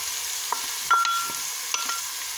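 Onion and mushrooms frying in a pot, a soft low sizzle with a few faint stirring scrapes and light clicks, heard quietly with no talking.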